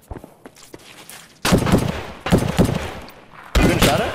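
Gunfire in the video game Escape from Tarkov: quiet footsteps and small taps, then three loud, close bursts of rapid shots separated by brief lulls.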